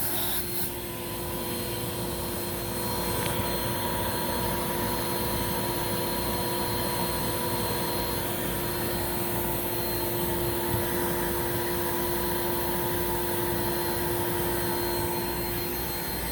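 A Rainbow SRX vacuum cleaner running for a wand airflow test, a steady loud whine with a constant pitch and a rushing air roar, unchanging throughout with no speech.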